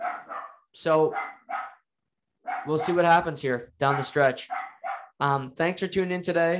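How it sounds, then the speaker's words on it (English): A dog barks in short bursts indoors, mixed in with someone talking steadily over it. "I apologize for the barking."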